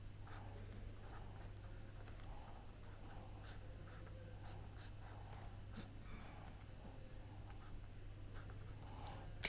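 Chalk or marker scratching across a board in quick repeated strokes during a chemistry lecture on pericyclic reactions, faint under a steady low hum with occasional soft voice.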